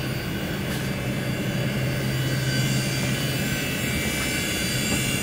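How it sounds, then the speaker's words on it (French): Telephone exchange computers in an old switching centre with MT25 and AXE10 exchanges and magnetic tape drives give off a dense, steady whirring roar, close and unbroken, with no voices. "Les calculateurs tournent, on entend le bruit caractéristique"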